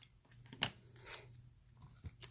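Scissors cutting printed cardstock for handmade card crafting, a few quiet, close, crisp snips spaced irregularly across a short moment.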